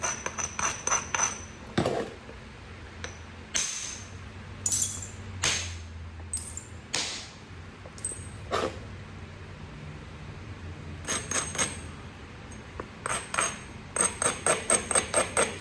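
Stone struck to knap flakes while shaping and bevelling a stone dagger, sharp clicking impacts in bursts and single hits, some in quick rapid series, close and fairly loud between quiet gaps.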